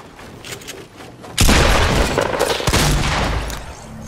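Video game gunfire in Fortnite erupts suddenly after a quiet start, a loud rapid burst of shots with booming impacts that rattles on for about two seconds before easing.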